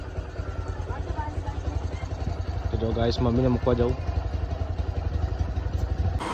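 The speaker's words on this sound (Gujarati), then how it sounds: "બાઇક સ્ટાર્ટ કરીએ કે મમ્મીને મૂકવા જવાનું હોય તો ગરમ થાય" A motorcycle engine idles steadily with a low, continuous rumble while a person speaks briefly over it.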